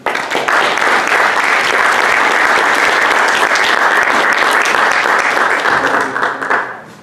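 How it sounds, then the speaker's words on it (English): Loud, sustained applause from an audience at a storytelling night, a dense steady roar of many hands that swells and then tapers off at the end. "Coming up with a big round of applause for Gretchen."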